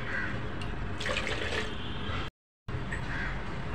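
Water pours steadily into rice flour for a batter, with a continuous close splashing stream that cuts out briefly partway through, while a crow calls faintly in the background.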